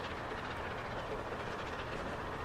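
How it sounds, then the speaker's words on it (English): The Caledonian Sleeper train passing by in Transport Fever 2, heard as a continuous, even rumble of rolling wagons that stays at a steady, moderate level throughout. "And well, there is the Caledonian Sleeper."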